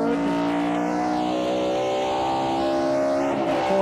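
NASCAR stock car at Suzuka accelerating through the gears, a loud harmonic engine roar rising in pitch with a dip at a shift, heard alone without talk.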